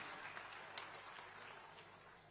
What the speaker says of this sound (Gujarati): તાળીઓના ગડગડાટથી અભિવાદિત કરીએ